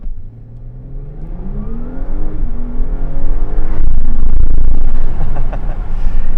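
A 2025 Audi S5 engine accelerates hard, its note climbing through rising revs with a shift partway through before building again, loud and close with no talk over it.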